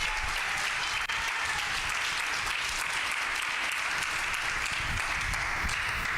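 A church congregation claps loudly and continuously, a dense even wash of applause filling the room for several seconds.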